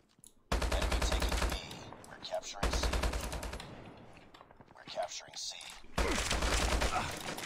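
Bursts of rapid automatic gunfire from Call of Duty Mobile rattle out in three long volleys, with scattered shots and faint voices in between.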